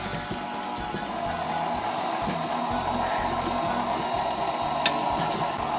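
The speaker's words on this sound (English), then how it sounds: "stir it with the mixer" An electric mixer churns brownie batter of eggs, butter and brownie mix, giving a steady, close motor whir with a rhythmic low pulsing and one sharp click near the end.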